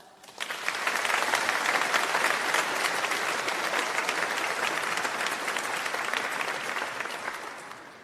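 Graduates at a 2022 graduation ceremony applaud their lecturers, a loud, dense wash of clapping from a large crowd that swells quickly, holds steady for several seconds and then begins to fade.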